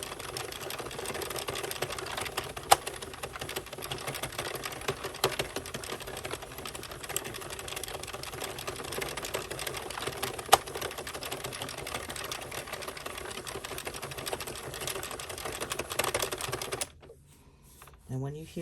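Circular knitting machine cranking yarn for an ombre scarf, a steady rapid clatter of needles running continuously at close range, then stopping abruptly near the end.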